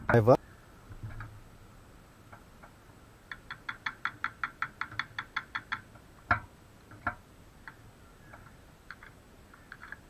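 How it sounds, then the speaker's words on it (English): A screwdriver knocks ants off a security camera in a quick run of about a dozen light, sharp taps, with a few scattered knocks before and after. "get a screwdriver and to knock off all of the remaining ants"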